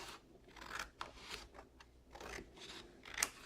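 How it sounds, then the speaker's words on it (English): Scissors cutting down the middle of a card for an easel-style card, a run of quiet, close crisp snips and paper crunches, with no talking. "So then you would just cut down the middle."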